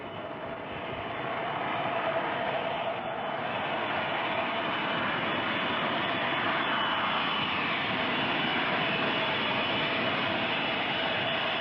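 Air India Boeing 707 jet airliner in flight, heard from inside as a steady broadband engine roar and rushing hiss, continuous and unchanging for about twelve seconds with no voices.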